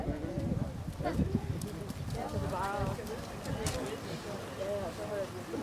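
Horses walk at a show event, their hooves clip-clopping steadily over constant outdoor background noise while people talk in Danish throughout.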